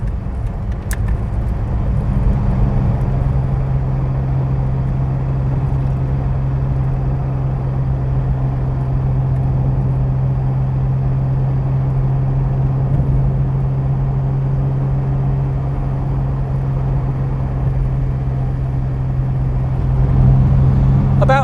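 A Ford Capri 2.8 Injection on the road, its engine giving a steady, droning rumble that holds a constant note for around twenty seconds, with wind and road noise mixed in.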